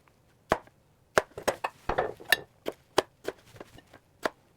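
A 10.25-inch Dow Strong chef's knife chops fresh tomatillos on a cutting board, a series of about a dozen irregular, crisp thunks with short gaps between them, close and fairly quiet, with no talking.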